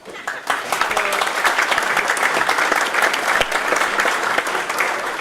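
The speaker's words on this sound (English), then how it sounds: "So I'd like to give everyone a round of applause for being here" Guests at a hall of fame dinner break into loud, sustained applause that starts abruptly and stays full and dense throughout, with a crowd murmur underneath.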